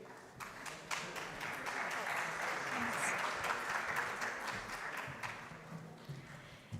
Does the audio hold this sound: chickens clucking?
no